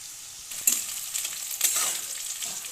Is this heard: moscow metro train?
no